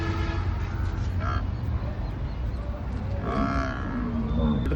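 Buffalo, including Murrah buffalo, low and moo amid a busy livestock market at Kurali, Punjab, with a constant low rumble of crowd noise and scattered voices around them.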